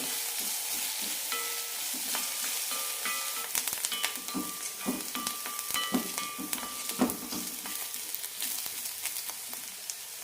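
Onions frying in a pan as the base for a street-style masala for masala puri, a steady sizzle with scattered stirring scrapes and clicks of a spoon throughout, close and alone without talk.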